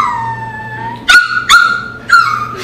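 A person vocally imitating the dog Shiro from Crayon Shin-chan: a long thin whine followed by three short, loud yelping yips, close to the microphone with no talk over it.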